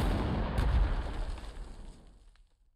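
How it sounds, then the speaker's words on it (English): Artillery bombardment in the World War II strategy game Panzer Corps 2, a loud, deep rumbling blast that booms and rolls off over about two seconds before fading away. "Let's bombard them"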